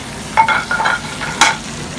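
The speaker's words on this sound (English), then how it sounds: "we're going to saute some spinach and olive oil" Spinach and garlic in olive oil sizzle in a pan while being stirred, with a few short scraping strokes and bursts of frying.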